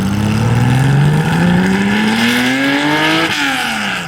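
A Porsche Cayenne fitted with an FI exhaust revs hard, the engine note climbing loudly and steadily before a quick shift-like drop near the end, close and dominant throughout.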